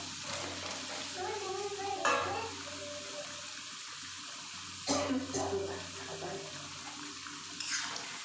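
Potatoes for a vegetarian aloo dum stirred into spiced curry in a pan, heard as a steady wet hiss with three sharper spoon scrapes or clatters spaced a few seconds apart, close by, with a little faint speech.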